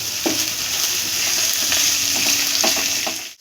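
Ghee-coated ingredients sizzle steadily in a pan on a gas stove, with raisins and cashews being added for kanika bhog; a continuous loud frying hiss with occasional stirring scrapes, no voices.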